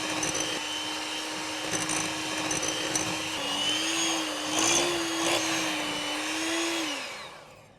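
An electric mixer whirs steadily as icing sugar and lemon juice are beaten together for a gingerbread house, its motor pitch rising and wavering midway before winding down at the end.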